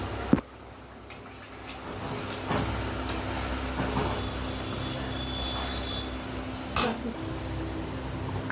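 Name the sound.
kharkol leaf paste bubbling in oil on gas stove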